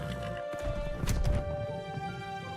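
A horse in a Minecraft animation whinnies and clops, with short hoof knocks and a neighing burst over a steady background tone, fairly close and moderately loud.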